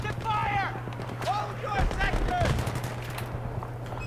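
Battlefield 3 campaign gunfire crackles in fast automatic bursts over a constant low engine-like drone, with combat voices calling out amid the shooting.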